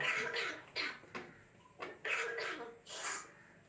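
A person coughs several times in short, raspy bursts spaced a moment apart, close and fairly quiet, with breathy throat sounds between.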